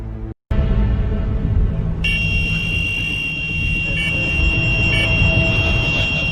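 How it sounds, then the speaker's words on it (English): An alarm buzzer sounds steadily aboard a diving support vessel during heavy weather, a continuous electronic tone with a few brief pulses over a loud, constant background hum. "I saw alarm which I never seen before."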